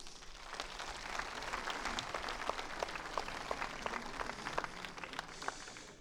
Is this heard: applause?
yes